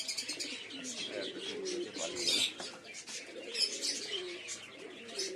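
Pigeons coo and chirp softly in a rain-soaked loft, several birds overlapping in a faint, continuous murmur with no talk.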